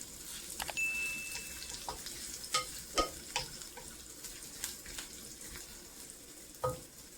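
Ingredients for an Arabic lamb soup roast gently in a pan on very low heat, giving a soft, faint sizzle with scattered light clicks and scrapes of stirring.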